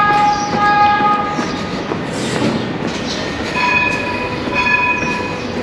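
A tram in Istanbul rumbles past close by, steady rail noise with squealing wheels and a few faint tonal whines, no voices.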